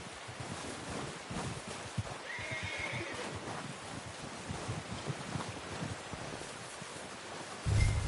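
A horse in the western game Red Dead Redemption 2 whinnies clearly amid scattered hoof clops and soft wind noise. The sounds are fairly quiet, with no talking.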